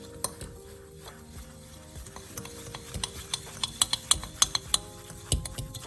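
Spoon stirring chocolate cheesecake base ingredients, melted butter and cocoa powder, in a bowl, with close repeated scraping and sharp clinks against the sides, growing brisker toward the end.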